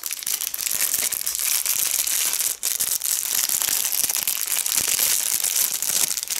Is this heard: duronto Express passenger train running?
no